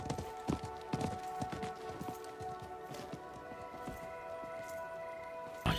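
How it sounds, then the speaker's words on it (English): Horse hooves clip-clopping in the Diablo 4 video game, a run of quiet rhythmic hoofbeats early on that thins out, over a faint steady musical drone with no speech. "I think that was the merchant's horse."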